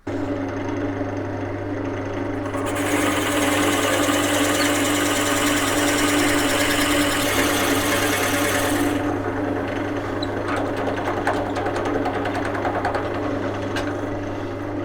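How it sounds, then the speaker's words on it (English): A 35mm Forstner bit bores into wet wood turning on a lathe, a steady motor hum with a loud high cutting whir rising for several seconds in the middle, then easing back to the running lathe. "35mm Forstner bit to take out a good portion of this"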